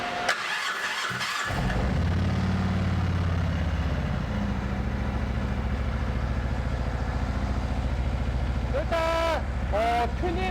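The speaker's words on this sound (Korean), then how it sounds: "일단 튜닝 머플러의 배기 사운드는 아주 좋습니다." A 2017 Harley-Davidson Ultra Limited motorcycle with a tuned muffler cranks and fires, then settles into a deep, throbbing exhaust idle that rumbles on steadily; a couple of short revs or squeals near the end.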